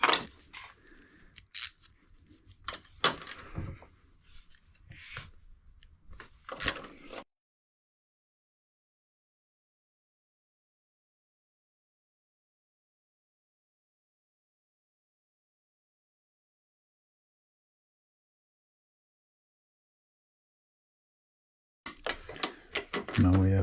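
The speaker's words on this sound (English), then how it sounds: "Now we just have to loosen the 3 bolts here," A ratchet on a 13 mm socket loosens the upper strut bolts of a BMW X5 E53, giving close, sharp clicking bursts for several seconds, then a long silence before another brief run of clicks at the end.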